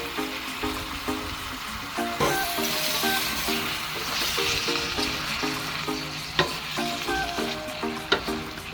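Squid and a big heap of cabbage stir-frying in a hot pan, continuous loud sizzle under rhythmic scraping and clanking of a spatula, with a couple of sharp metal knocks near the end and no talking.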